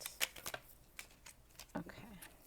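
Tarot cards being shuffled and a card pulled from the deck, giving quick, soft riffling flutters and light slaps up close, with faint speech underneath.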